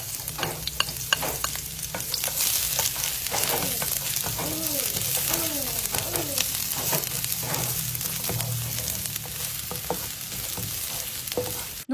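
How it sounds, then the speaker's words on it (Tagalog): Garlic frying in hot oil in a pan, a steady loud sizzle with scattered crackles and the scrape of stirring throughout, no talking. "Naglagay ako ng mantika sa pan, nung mainit na yung mantika, inilagay ko na yung bawang."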